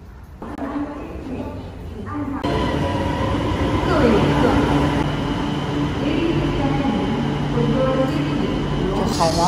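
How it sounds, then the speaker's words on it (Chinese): Hainan high-speed train ride: a steady, loud rolling rumble of the carriage runs throughout, with a brief shift early on, as a voice speaks over the train noise. "环保高铁挺方便"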